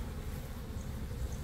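Honeybees buzz softly and steadily at a nucleus hive, close but faint, with no voices.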